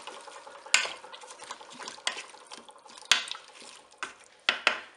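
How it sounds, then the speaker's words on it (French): Scallops and leeks with a little curry stirred in a Cookeo multicooker pot, wet squelching stirs punctuated by sharp spoon knocks against the bowl, close and irregular, no talk. "Bien mélanger l'ensemble."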